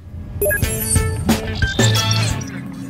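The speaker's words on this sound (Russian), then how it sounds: "уже слышно, что вода э, поступает с воздухом" Water gurgles and sputters out of a Gorenje boiler's drain as air mixes into the flow, with uneven splashing and bubbling close by.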